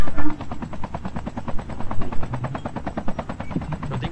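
A helicopter in the mobile shooter Call of Duty Mobile flies with a loud, steady, rapid rotor chop, the close beating pulses running evenly throughout with no pause.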